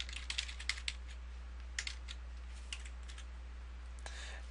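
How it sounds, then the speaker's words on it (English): Fingers tap out a website address on a computer keyboard in quick, light clicks, with short bursts and pauses over a low steady hum. "You can type in whatever website you want."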